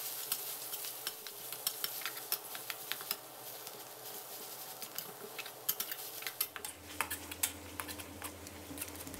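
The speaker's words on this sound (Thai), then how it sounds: "นำน้ำพริกที่เราตำไว้นะครับลงมาผัดให้สุกเลยครับ" Nam prik ong chili paste stir-fried over medium heat in a pan, a spatula scraping and tapping against the metal in quick irregular strokes over a soft, steady sizzle, close and fairly quiet.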